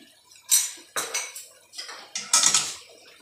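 Yogurt being stirred into chicken curry in a pot, heard as a handful of close, bright scraping and clinking strokes of a utensil against the metal pot, spaced irregularly with short pauses between them.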